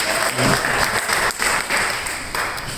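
A church congregation claps for the Lord in a worship service, a steady wash of many hands clapping at moderate loudness, with faint voices mixed in underneath.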